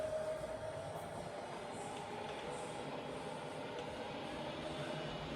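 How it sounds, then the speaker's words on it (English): A Bridgeport milling machine with a 42-inch table runs in low range at 70 RPM, producing a quiet, steady mechanical hum with a faint tonal whine and no talking. "So push it in, turn it round, fire up, and we're running at 70 RPM now."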